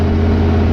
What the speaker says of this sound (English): Hard throttle is keeping up, maintaining speed no problem.